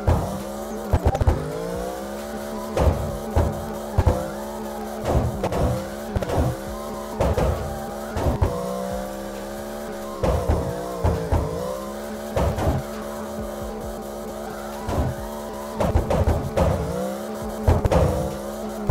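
Karnage 7C drifting in CarX Drift Racing, a high-revving engine wailing continuously with repeated sharp shifts and throttle blips while tires squeal through long slides, steady and loud throughout.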